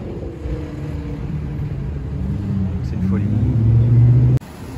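A Ferrari 288 GTO engine runs on a Paris street, a low steady rumble that swells into a stronger, rising tone before cutting off abruptly.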